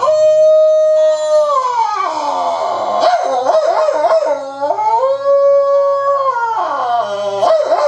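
A voice imitates a dog howling, drawn-out wavering howls that rise and fall, close and loud, repeated several times without pause.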